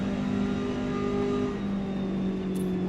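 Koenigsegg CC850 engine in Forza Motorsport holding a steady, droning rev with a smooth, sustained pitch that dips slightly midway, close and constant with no talking.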